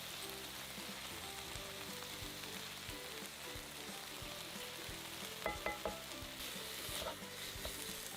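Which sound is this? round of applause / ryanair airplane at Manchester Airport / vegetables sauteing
vegetables sauteing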